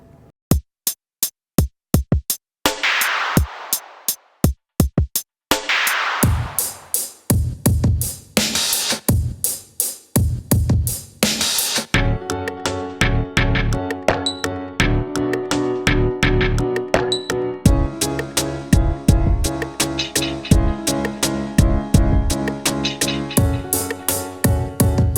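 Drum machine loop with punchy bass drum, snare and hi-hat, starting as sparse hits before settling into a dense, steady repeating groove at close, loud level with no voices.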